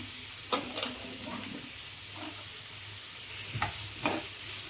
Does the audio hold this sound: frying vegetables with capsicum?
yes